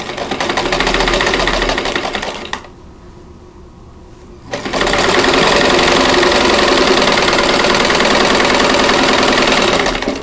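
A sewing machine stitches a French Silk Pie quilt block, running loud and steady, pausing for about two seconds, then whirring back up at full speed with a fast mechanical rattle.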